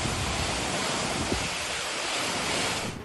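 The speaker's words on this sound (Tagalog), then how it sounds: "Tila sumasayaw sa ihip ng hangin ang mga puno ng niyog sa Sariaya, Quezon sa pananalasa ng bagyong Aghon." Typhoon Aghon's wind roars steadily through coconut trees in Sariaya, Quezon, a loud, continuous broadband gusting rush with a surf-like wash and buffeting on the microphone throughout, fading slightly at the end.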